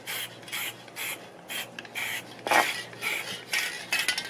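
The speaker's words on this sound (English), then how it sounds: "this is spray water bleaching into wet ink" Water sprayed onto wet dye-based ink on stamped paper, a series of short, evenly spaced hissing spray bursts roughly every half second, close and moderately loud, with slightly stronger, quicker bursts toward the end.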